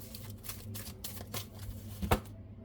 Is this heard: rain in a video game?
no